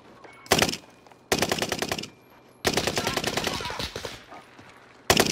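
Rapid automatic gunfire from Call of Duty: Warzone erupts in loud bursts, several separate volleys of fast rhythmic shots with short pauses between them, close and dominant throughout.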